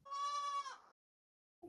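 A goat bleats once, a clear, close, sustained nasal cry in a stop-motion zombie animation, followed by silence and a brief sound at the very end.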